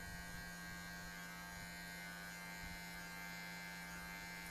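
An electric hair clipper fitted with a number 1 guard buzzes steadily and close by during a taper fade haircut, a constant electric hum with faint cutting textures and no talk.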